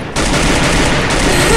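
Rapid automatic gunfire in the video game Hero 10 cuts in abruptly and keeps up as a loud, continuous, dense fusillade close by.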